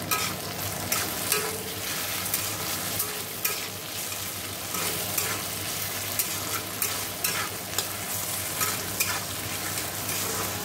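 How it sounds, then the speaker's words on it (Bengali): Potato pieces with salt and turmeric fry in oil in a pan, a constant sizzle broken by regular scraping clicks as a spatula stirs them, close and fairly loud, with no talking. "আলুটা ভাজা ভাজা হোক"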